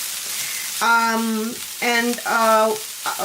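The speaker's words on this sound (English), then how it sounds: "My vegetables do continue to saute." Vegetables for a Russian cabbage soup sauté in a hot pan with a constant soft sizzle, while intermittent tonal, voice-like humming rises over the hiss in short bursts.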